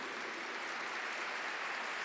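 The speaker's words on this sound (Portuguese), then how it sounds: "vamos aplaudir" An audience at a televised Catholic gathering applauds, a faint, even wash of distant clapping with no voices.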